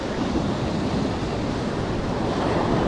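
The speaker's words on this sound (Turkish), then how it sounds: "Dalga var." Sea waves wash steadily at the shore on the Sinop coast during bluefish fishing, a constant loud roar mixed with wind buffeting the microphone, with no talk over it.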